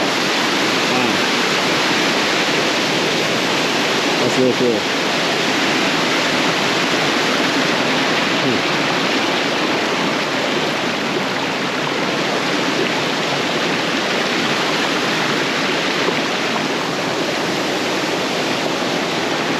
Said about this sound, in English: The water comes down, hits that rock, and then splatters out.